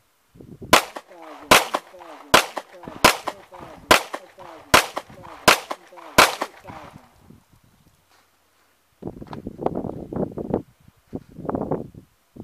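Eight sharp pistol shots fired at a steady one-second cadence at 7 yards on a range, each crack loud and close with a short ringing tail, followed by a pause and then muffled rustling and movement.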